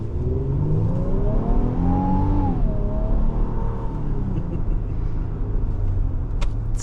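A heavy 2025 Infiniti QX80 Autograph SUV, over 6,000 pounds, pulls away from a stop with a steady low engine rumble and a rising whir as it gains speed, heard from inside the cabin with no talking.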